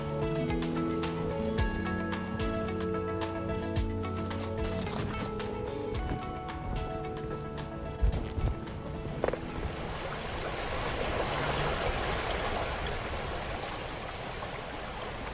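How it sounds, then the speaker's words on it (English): A river rushing over rock, a broad steady wash of water that grows fuller and louder in the second half, heard outdoors and fairly near after earlier tonal background sound. "Down below me is a river,"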